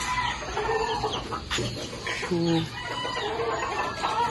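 Chickens cluck and call nearby over a constant outdoor background, with a few louder squawks and crowing-like cries mixed in.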